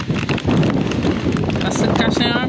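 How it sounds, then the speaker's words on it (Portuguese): Wind gusting during a rainy spell in Jaguaribara, Ceará, near the Castanhão reservoir, a loud steady rush buffeting the microphone throughout, with faint speech mixed underneath. "Olha aqui o barulho do vento."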